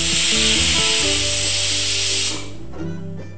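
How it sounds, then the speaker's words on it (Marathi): A pressure cooker, cooking green chicken rice, vents steam through its whistle in a loud, close hissing blast with a tonal whine that drops away after about two seconds, leaving a softer hiss. "कुकरची शिट्टी येण्यासाठी झाकण लावून ठेवली."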